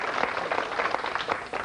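Studio audience applause on a game show, a short burst of dense clapping that stays fairly even before easing slightly at the end.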